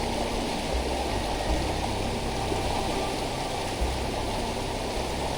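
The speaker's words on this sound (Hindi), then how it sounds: "पानी का फोर्स बहुत ज़्यादा है।" Fast-flowing stream water rushes in a loud, constant roar at a waterfall crossing, close by and with no pauses.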